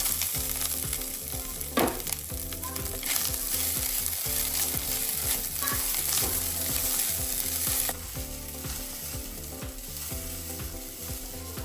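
Poppy seeds and grated coconut are sautéed in a pan for a sweet modak filling, with a constant close sizzle and repeated rhythmic scraping of the stirring spoon throughout.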